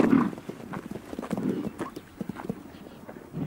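Horse hooves clip-clop on the ground in a nature reserve in Mongolia, a fairly faint, irregular series of close hoof knocks with soft rustling between them.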